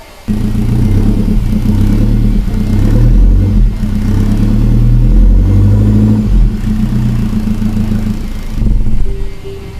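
A Ford car engine rumbles deeply through a throaty HKS dual exhaust, revving up and down in loud, close bursts.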